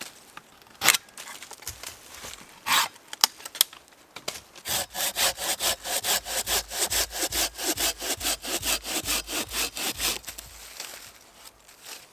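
Silky Gomboy Outback Edition folding saw cutting through wood, a few tentative scrapes first, then a fast, steady run of loud rasping push-pull strokes that slows and ends.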